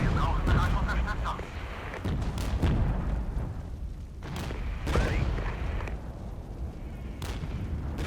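Constant artillery fire in the Cold War strategy game Regiments: repeated heavy booms and sharp cracks over a continuous rumbling barrage, with a voice talking over it.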